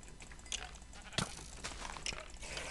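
Sheep bleating in Minecraft, a few short bleats at moderate distance amid faint game ambience and soft crunching steps.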